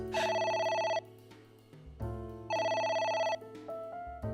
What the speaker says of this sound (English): Gosh, I don't like the sound of phones ringing.